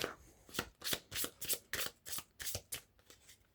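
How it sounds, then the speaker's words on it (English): A deck of cards is riffle-shuffled repeatedly, crisp rhythmic fluttering bursts about every third of a second, close and alone. "now I have to shuffle the deck up"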